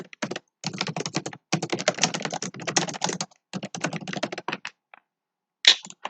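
Code is typed on a computer keyboard in rapid, dense bursts of close, crisp key clicks separated by brief pauses. A final isolated keystroke stands alone, with no voice over the typing.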